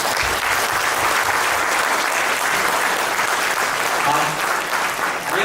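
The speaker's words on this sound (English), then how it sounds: "a huge round of applause for the entire team" A room full of colleagues at a corporate event gives the team a dense, continuous round of applause, loud and close, sustained throughout with no talking over it.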